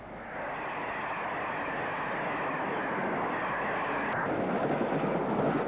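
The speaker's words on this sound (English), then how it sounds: "So was this Class 86 on a Pullman train." A British Rail Class 86 electric locomotive hauls a Pullman train past, giving a steady, loud broadband rumble of traction and rolling stock that holds evenly throughout, with no voices.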